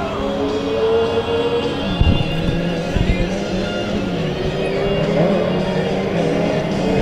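Dirt track race cars roll out for a Friday night heat race, a dense rumble of several engines droning steadily at a distance with crowd-like wash and a few sharper bursts.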